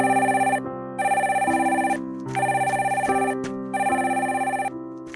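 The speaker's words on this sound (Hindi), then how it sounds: "पक्का ये तुम्हारी मॉम का फोन होगा" Telephone ringing in a Hindi cartoon: a loud, electronic ringtone plays in three repeated bursts, each a bright warbling tone, sounding alone without any talking.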